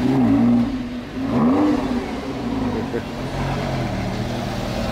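A drift car's engine revs hard with rising and falling pitch, then settles into a steady loud drone, heard close from inside the car while a person talks over it.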